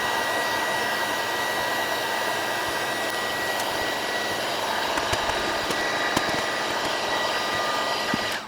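A heat gun blows in a steady, loud, continuous whoosh while warming sound dampening material being rolled into place in a Unimog 404 diesel, with a few faint clicks and taps and no voices.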